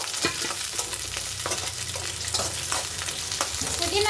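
Onion, garlic and curry leaves fry in a pan, a loud close hiss with repeated scraping strokes of a spoon stirring through it.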